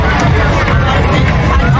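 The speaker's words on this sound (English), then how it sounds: "you got people clapping" Dense crowd noise along a St. Patrick's Day parade route on Las Olas, with steady clapping, cheering and crowd babble filling the space loudly and continuously.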